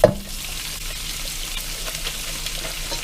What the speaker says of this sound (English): And I call this a stir fry because I'm going to keep it moving.